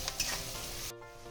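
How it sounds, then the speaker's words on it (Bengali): Potatoes fry with turmeric, salt, chopped onion and garlic, a loud crackling sizzle with stirring scrapes that drops suddenly quieter near the end. "এবার আমি হলুদ লবণ আর পেঁয়াজ রসুনের সঙ্গে আলুটাকে ভালো করে একটুখানি ভেজে নেব"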